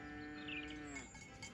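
A single cow moo, a long drawn-out call that holds steady and then drops off, clear and close, with no talk over it.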